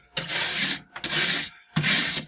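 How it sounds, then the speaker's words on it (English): A coarse nylon brush scrubs a waxed ski base in three long strokes, each a close, loud bristly swish with short pauses between, and no talking. "Onto this onto the nylon, coarse nylon brush."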